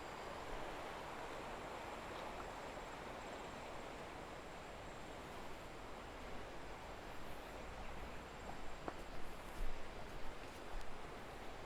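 Steady broadband rush of the Cisadane river flowing at a bend, a continuous river roar with no breaks, fairly even in level throughout.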